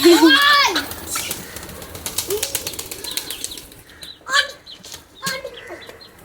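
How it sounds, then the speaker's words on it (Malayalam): Pigeons and chickens squabble noisily over feed: a loud squawk, a flurry of wing flapping, then clucks and short cries close by. "കൊത്തുകൂടുന്നു. പ്രാവും കോഴിയും എല്ലാവരും കൂടി."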